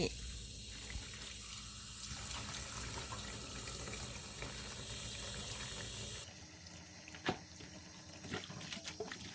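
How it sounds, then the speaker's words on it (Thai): Running tap water splashes steadily into a sink as squeezed spider flower leaves are rinsed clean for an Isan-style dish, a continuous close wash that shifts and thins near the end with a few small clatters. "ล้างน้ำเฝื่อนเขาออกให้สะอาดนะคะแล้วก็ บีบน้ำออกให้หมดนะคะ"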